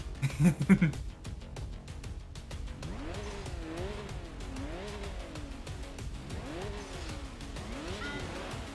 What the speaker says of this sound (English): Oh, that turbo blow off sounds so good.